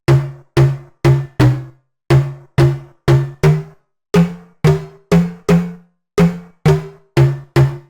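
Metallic, distorted synth pluck from a deep house sample pack, played as about fifteen short, evenly spaced plucked notes with quick attacks and fast decays, loud and alone with no voices.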